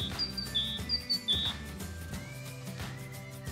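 Song of a tit, a small yellow-bellied bird: a few high, thin chirps and whistled notes in quick succession over a soft musical backdrop.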